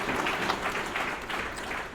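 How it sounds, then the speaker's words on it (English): Audience applause for a team at an awards ceremony, a steady broadband wash of clapping filling the whole two seconds at a moderate, slightly distant level. "Give them a round of applause,"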